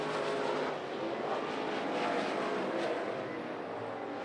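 IMCA modified race cars roaring around a dirt track during a heat race at Grays Harbor Raceway, a steady, somewhat distant engine drone with no voices.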